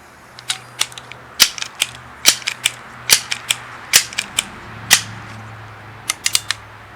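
A Crosman 1377 American Classic .177 pellet pistol clicks and snaps through sharp, irregular close mechanical strokes of pumping and firing, about two dozen crisp transients spread over several seconds with short pauses between them.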